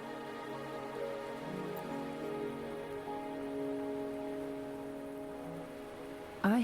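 Steady rain patters in the video game Wuthering Waves, a soft continuous hiss under sustained musical tones, with a sharper sound at the very end.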